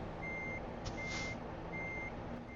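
Repeated reversing beeps from a truck in the American Truck Simulator driving game, evenly spaced over steady engine rumble as the truck backs into a parking space.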